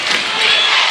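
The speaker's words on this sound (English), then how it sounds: "Dothan crowd coming alive" A Dothan basketball crowd roars and cheers in a loud, dense wash of voices that fills the whole gym during a game against Northview.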